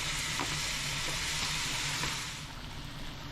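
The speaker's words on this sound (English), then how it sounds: "You'll hear that sizzle. That's exactly what you want." Beef and broccoli sizzles and crackles steadily in a hot skillet close up, a continuous hiss that eases slightly toward the end, with no voices.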